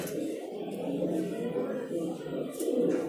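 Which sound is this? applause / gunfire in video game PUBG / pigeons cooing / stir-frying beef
pigeons cooing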